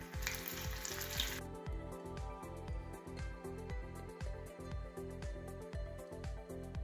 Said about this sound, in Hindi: इस ऑयल में हम पनीर को थोड़ा फ्राई करेंगे